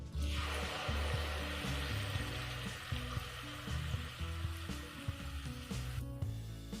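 Tomato puree hits hot oil for dal makhani and sizzles loudly in a broad, steady hiss, with a few clinks and stirring sounds underneath.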